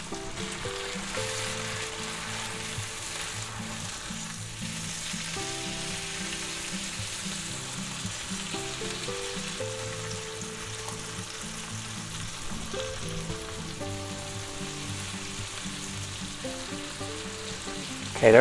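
Thick boneless pork chops with minced garlic sizzle in butter in a cast iron skillet, a constant dense crackling fry that runs unbroken throughout, with faint tonal music low in the background.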